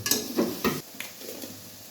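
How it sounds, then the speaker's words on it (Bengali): Spice paste with Kashmiri chili powder being stirred and fried in a pan for a jackfruit curry, a few scraping spoon strokes against metal with a faint sizzle beneath, then quieter frying. "আমি এখন দিয়ে দেবো কাশ্মীরি লঙ্কার গুঁড়োটা তো তোমরা ঝাল লঙ্কা যারা ঝাল একটু করতে চাও তো তারা ঝাল লঙ্কাটা এই সময়তেই দিয়ে দেবে তো দিয়ে আমি মশলাটা একটু কষিয়ে নেব"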